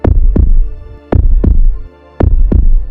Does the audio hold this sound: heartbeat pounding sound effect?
yes